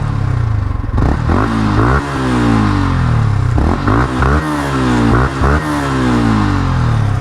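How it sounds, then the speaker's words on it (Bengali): Yamaha R15 V4 motorcycle with an aftermarket exhaust revving hard and loud close by, several sharp throttle blips rising and falling over a continuous idle. "exhaust sound"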